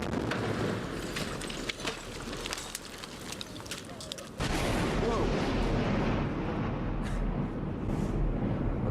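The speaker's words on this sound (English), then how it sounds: "that was a rather large explosion" A sound-effect explosion rumbles as a loud, sustained roar of dense noise that swells sharply midway and keeps booming, with scattered crackling impacts throughout.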